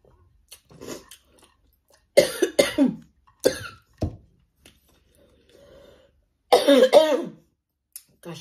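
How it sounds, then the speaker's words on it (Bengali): A person coughs in several short, harsh bursts separated by quiet pauses, close to the microphone, with some throat-clearing sounds between them. "কাশিটা মোরে ভালাইম না,"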